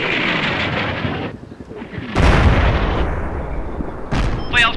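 An artillery fire mission in the video game Combat Mission Shock Force: heavy, booming rumbles roll in loud, close waves, with a fresh blast about halfway through and a sharper crack near the end.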